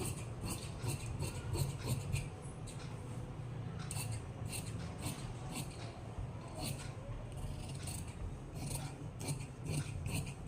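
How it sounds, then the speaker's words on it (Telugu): Scissors cut blouse fabric along chalked markings for the front panel of a size 40 blouse, giving repeated quick snipping rasps at a steady rhythm, close and fairly soft over a low room hum. "మనం వేసిన మార్కింగ్స్ మీద ఫ్రంట్ పార్ట్ కటింగ్ చేసేసుకుందాము"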